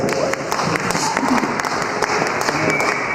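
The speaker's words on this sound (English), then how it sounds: "Give us a round of applause." A crowd at a youth talk on God and the meaning of life claps warmly, close and loud, with sharp individual claps standing out and voices murmuring beneath the applause.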